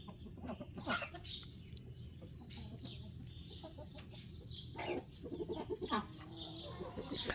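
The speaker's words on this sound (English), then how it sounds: "Hello, chickens." Backyard chickens clucking alongside ducks, with repeated short calls and busy low farmyard chatter, fairly close and steady over a soft outdoor background.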